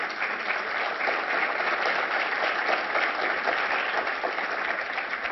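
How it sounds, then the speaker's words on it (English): Steady, dense applause from a sizeable audience welcoming badminton player PV Sindhu at an interview event, continuous and even throughout with no talk over it. "PV Sindhu, an applause to begin with."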